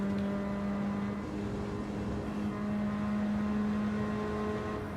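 Race car in Gran Turismo 7 accelerating in fifth gear, a steady sustained engine whine climbing slowly in pitch over several seconds, close and continuous with no talk.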